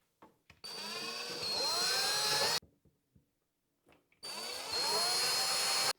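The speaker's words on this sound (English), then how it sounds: "I've got a drill here." Two long bursts of a power drill whining at close range as it drills into a wall, its pitch rising as it bites in, with short clicks and pauses between.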